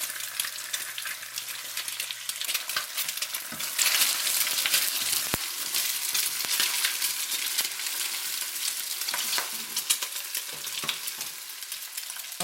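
Two eggs frying in a pan for salmon fried rice, a steady close sizzle with scraping stir strokes throughout and no talking.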